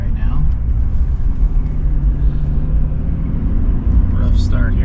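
GM pickup truck towing a trailer accelerates at three-quarter throttle, a steady loud low engine drone and road rumble filling the whole stretch, with a voice talking over it.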